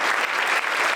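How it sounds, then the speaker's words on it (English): An audience at a soccer and sport business summit keynote claps in a dense, steady round of applause for panelists returning to the stage, close and loud throughout. "We can ask our panelists to return to the stage to a rousing round of applause"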